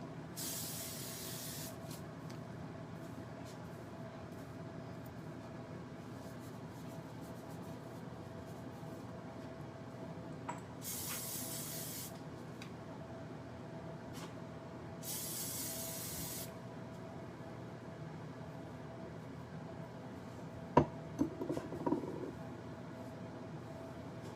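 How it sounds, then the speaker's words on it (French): Hairspray is sprayed onto hair in three short hissing bursts, close and fairly loud over a quiet room background, followed by a few faint clicks near the end. "Moi, j'utilise juste du spray net. Je mets pas de gel dans mes cheveux."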